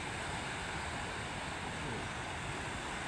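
Rough, choppy sea waves roll in along a coast lined by a long sea wall and resorts, a steady dense wash of surf and wind that stays loud and unbroken throughout, with no voices.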